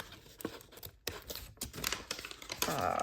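Scissors snip through paper for a crayon-and-watercolor sketchbook piece, giving a quick run of crisp, close cuts and rustles with brief pauses between them.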